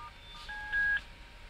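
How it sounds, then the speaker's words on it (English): A single DTMF tone sounds as the star key is pressed on an intercom keypad, a clean steady dual-pitch beep lasting about half a second against a quiet background. "Press the star key."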